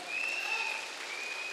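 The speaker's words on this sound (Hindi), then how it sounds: "आज अभी आप तालियां बजा रहे हो" A seminar audience applauds in an even, fairly soft wash of clapping with no voices over it.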